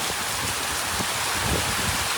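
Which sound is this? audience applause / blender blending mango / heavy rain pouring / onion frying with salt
heavy rain pouring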